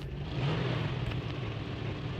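A car engine drones steadily in a battle royale video game, a continuous motor hum under broadband road noise for about two seconds with no talk.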